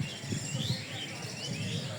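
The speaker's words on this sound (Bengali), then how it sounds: "পাখিগুলো কি সুন্দর ডাকতেছে।" Birds chirp and call outdoors on a river char at Charkhanpur, with light, repeated high tweets scattered over a soft, steady background of ambient noise.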